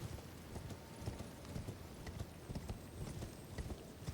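Horse hooves clip-clopping in the video game Elden Ring: Shadow of the Erdtree, a steady, quick trotting rhythm of soft thuds throughout, fairly faint and without talk.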